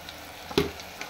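Onions and tomatoes sauté for kara kuzhambu in a pan, giving a faint, steady sizzle with one brief louder stir or spatter in the middle.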